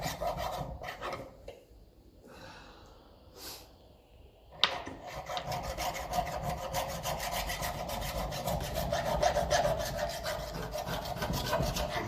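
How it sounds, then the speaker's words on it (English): A hand file rasps repeatedly against a metal part from a 1954 Ferguson 20 TEF diesel tractor, close and steady strokes in an even rhythm after a few quieter, scattered scrapes at the start. "you just have to keep filing it and smiling"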